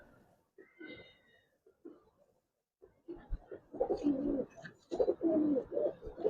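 Giribaz and colored pigeons coo in a loft, low throaty calls coming in soft scattered bursts at first, then growing louder and more frequent, close by with no talking.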